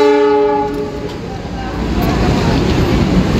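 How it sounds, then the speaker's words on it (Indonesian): A train rolls past on tracks beside a roadside eating spot near a railway, its horn sounding with sustained tonal blasts early on, then a loud, close rumble of wagons continuing throughout. "Lagi makan keretanya lewat."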